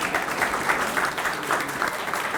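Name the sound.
applause for the museum board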